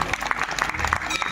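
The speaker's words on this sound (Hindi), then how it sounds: "एक बार जोरदार ताली।" A crowd at a Hindu temple celebration applauds loudly, dense continuous clapping from many hands with sharp rhythmic peaks, close and full throughout.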